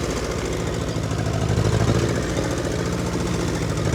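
A 1952 Ferguson TEA 20 tractor ploughs a garden, its engine a loud, steady, close-up chug that runs unbroken throughout with no voices.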